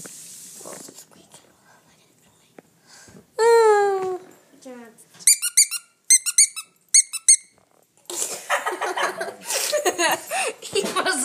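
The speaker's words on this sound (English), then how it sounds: "Oh, it's a squeak." Squeaky dog toy on a dog bed, sounding in a quick run of sharp, loud squeaks, with a person's high playful voice just before and laughter and chatter afterward.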